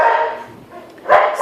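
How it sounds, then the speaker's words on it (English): A dog barks in a couple of sharp, loud bursts close by, separated by a brief quieter pause. "sorry about the barking right now"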